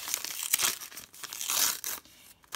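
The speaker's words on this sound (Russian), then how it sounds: "Давайте откроем пакетик." A foil sticker packet is torn open close up with crinkly ripping and rustling in uneven bursts, with no voice over it.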